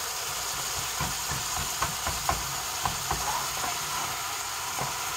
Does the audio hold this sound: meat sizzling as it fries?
yes